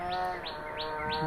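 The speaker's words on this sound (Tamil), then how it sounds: "குருவி கத்துற சவுண்டு வெளியே கேட்குது பாருங்கள்." Sparrows outside a house give a run of four evenly spaced rising chirps, moderately close, over a steady hum with no speech.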